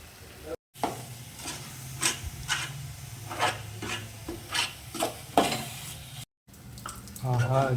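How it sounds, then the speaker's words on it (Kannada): A spoon stirs chopped almonds, cashews and cardamom through thick coconut candy in a pan, making rhythmic scraping strokes over a soft sizzle, close up, with two brief gaps of silence and a bubbling patch near the end. "ಈಗ ಕಟ್ ಮಾಡಿರೋಂಥ ಬಾದಾಮಿ ಮತ್ತು ಗೋಡಂಬಿ ಏಲಕ್ಕಿ ಇವು ಮೂರನ್ನು ಇದಕ್ಕೆ ಹಾಕಿ ಮಿಕ್ಸ್ ಮಾಡೋಣ"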